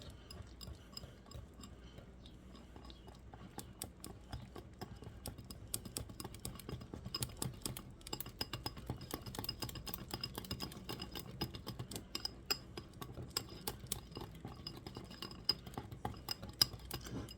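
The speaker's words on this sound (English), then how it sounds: "And then I'm just going to take my whisk and just whisk all of this together," A whisk beats a paprika seasoning mixture in a bowl, making rapid, fine metallic ticking and tapping that grows busier and stays close and fairly soft throughout.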